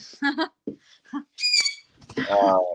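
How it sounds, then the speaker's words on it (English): A pet parrot perched on a shoulder screeches and squawks in short, sharp bursts close by, mixed in with people talking. "Oh, my bird, no. Oh, not really. No, she just screams."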